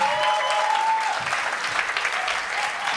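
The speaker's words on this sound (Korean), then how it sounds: "여러분 큰 박수 한번 부탁드리겠습니다." An audience at a Christian musician contest held in a church applauds a band, a dense, steady wash of clapping with no voices over it.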